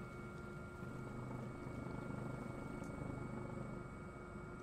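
Helicopter flying in the Squad video game, a steady loud rotor drone with constant engine whine, continuous throughout with no talk.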